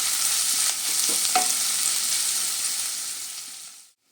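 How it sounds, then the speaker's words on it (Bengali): Onions and green chillies sizzle steadily in a hot pan with occasional stirring scrapes, a loud continuous frying hiss that fades out near the end. "পেঁয়াজটা যতক্ষণ না লালচে কালার আসে ততক্ষণ এটা ভাজতে থাকবো"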